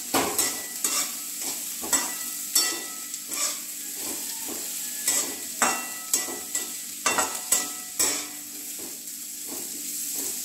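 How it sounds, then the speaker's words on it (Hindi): Chopped radish sabzi fries in a pan under a constant sizzle, with regular spatula scrapes and taps sounding about once a second, close and clear, with no speech. "हम थोड़ी देर मूली को ऐसे ही पका लेंगे। 2 से 3 मिनट हम ऐसे ही इसको चलाएंगे।"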